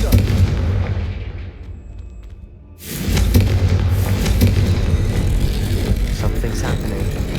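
A Confringo blasting spell goes off in Hogwarts Legacy: a quiet, dull stretch, then a sudden loud boom near three seconds that turns into a sustained, roaring rumble of fire and debris that holds to the end.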